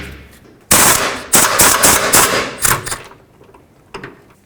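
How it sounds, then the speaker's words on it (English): A socket wrench on a 3/8-inch drive extension loosens a 15mm bolt on the front engine mount of a 2001-2007 Volvo V70, giving loud rapid rattling bursts, then quieter clicks near the end. "Let's remove the bolt. It's a 15mm."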